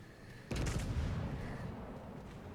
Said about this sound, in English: My secondaries actually open it up on the carrier